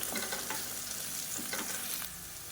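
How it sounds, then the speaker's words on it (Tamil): Onions with mint and curry leaves sautéing in a pan for a cauliflower gravy; steady, close sizzle and frying hiss with soft stirring scrapes, no voices. "இப்போ வெங்காயம் லேசாக வதங்கிடுச்சு."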